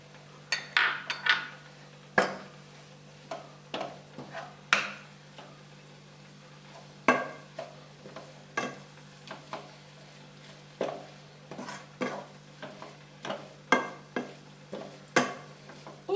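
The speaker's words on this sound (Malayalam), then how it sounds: "നമുക്കൊന്ന് ഇളക്കിയെടുക്കാം" Chicken biriyani masala being stirred in a pan with a utensil, a steady series of sharp clinks and scrapes against the metal over a faint sizzle, close and clear with no talking.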